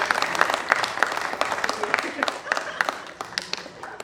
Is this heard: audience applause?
yes